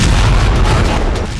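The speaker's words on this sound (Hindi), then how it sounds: "सेना ने प्रेसिडेंट पुतिन को 21 तोपों की सलामी दी" A 21-gun artillery salute booms over Moscow at a presidential inauguration ceremony, heard as a loud, continuous, low rumbling roar of cannon fire that tapers slightly at the end.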